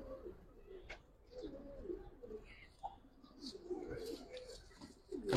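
Giribaz pigeons kept in a loft give soft, low rolling coos in several bursts, close by, with faint higher bird chirps and light background clatter around them.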